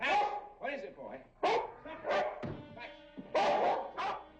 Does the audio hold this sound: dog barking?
yes